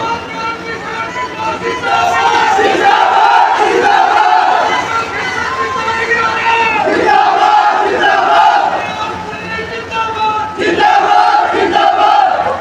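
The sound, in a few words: crowd cheering at a political rally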